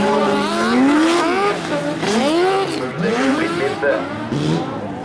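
Rally cars at the BjerkeSprinten 2014 sprint rally roar past close by, engines revving hard and pitch sweeping up and down as several cars pass in quick succession, loud throughout with a voice faintly underneath.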